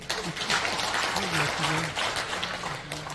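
Applause from an audience at a Christian women's prayer meeting, steady clapping filling the space while someone speaks over it.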